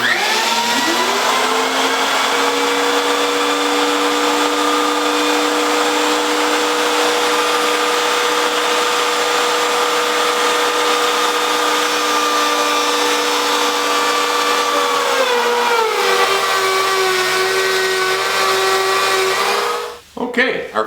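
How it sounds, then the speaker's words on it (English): A power tool hums steadily and loudly while cutting dadoes across three wooden boards for a sanding center, the motor tone dropping slightly near the end before spinning down abruptly. "Okay, our first dado is cut, 3 boards, and it looks very nice."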